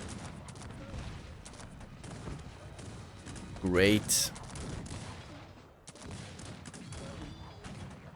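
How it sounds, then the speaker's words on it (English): A burst of heavy booming cannon shots in the video game Cossacks 3 erupts midway, loud and close, over a constant background of battle noise and a brief spoken word. "Cannons, start shooting over here,"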